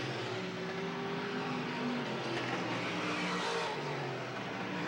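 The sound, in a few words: late model stock cars racing past at Selinsgrove Speedway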